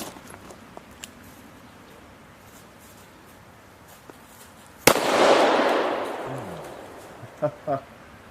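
A single loud shotgun blast firing triple-aught buckshot at a target 7 yards away on a range, sharp and close, with a ringing decay afterward and a couple of faint clicks near the end.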